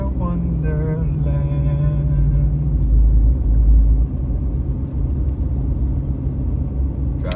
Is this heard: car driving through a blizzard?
yes